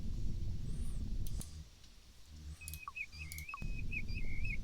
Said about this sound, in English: You hear the call of a plover.